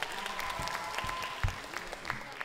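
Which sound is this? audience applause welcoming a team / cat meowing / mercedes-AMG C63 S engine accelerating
audience applause welcoming a team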